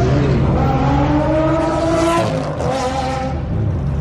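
A sports car launches hard and accelerates at a gathering of exotic cars including Ferraris and Maseratis, its engine note loud and close, rising in pitch across the run with a brief tire squeal and no talk.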